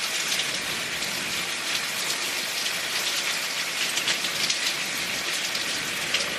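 Running water rinses through detangled hair, a loud, even rushing splash that holds steady from start to finish with no voice over it.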